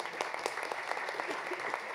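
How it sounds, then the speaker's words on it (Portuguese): Applause from an audience at a live Amnesty International Brazil annual report event, greeting the executive director: a steady wash of many hands clapping throughout, moderately loud and fairly distant, with faint talk underneath. "Passo uma salva de palmas para a nossa diretora"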